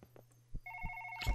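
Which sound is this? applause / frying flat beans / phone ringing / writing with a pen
phone ringing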